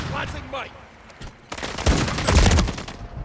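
Rapid bursts of gunfire in the video game Call of Duty, loud and dense in the second half, with someone talking briefly over the opening stretch.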